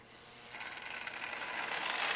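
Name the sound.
Marx toy train set running in reverse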